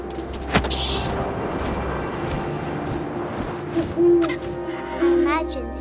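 Owl hooting in the video game What Remains of Edith Finch, a few soft low hoots late in the clip over wind-like ambience and a steady low hum.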